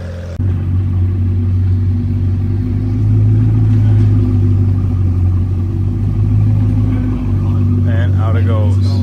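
A Bugatti Chiron supercar pulling away, a deep loud engine rumble that starts abruptly and holds a strong low drone as it rises and eases, with voices talking briefly near the end.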